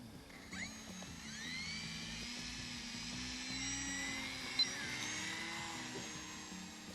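Steady, high electric whine of an RC model aircraft motor under throttle, with a soft brief rise and fall in pitch, moderately loud and continuous, over outdoor airfield background and no talk.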